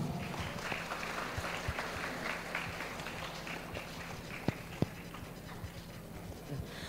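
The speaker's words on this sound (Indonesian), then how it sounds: "Tepuk tangan untuk kita semua." Students at a school religious study gathering break into fairly faint, distant applause, a steady patter of scattered claps with a couple of sharp knocks partway through.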